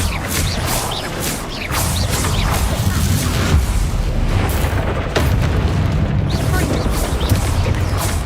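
Incendio fire spell cast in the video game Hogwarts Legacy, a loud sustained fiery roar with booming bursts and crackling, continuous over the whole stretch.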